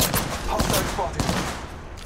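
A shooter video game erupts in dense, overlapping gunfire: rapid automatic bursts and repeated cracks that blend into a continuous volley. Faint voices sit underneath.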